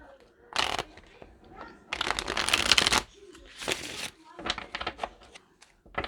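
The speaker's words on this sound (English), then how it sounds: "So I'm gonna pull tarot cards." Tarot cards being shuffled by hand, close and crisp, in several riffling bursts of a second or so separated by brief pauses, with no speech over them.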